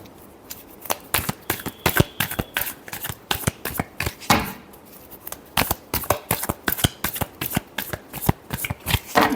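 A deck of tarot cards is shuffled close up, producing a rapid, rhythmic series of sharp riffling slaps that pause briefly in the middle before resuming.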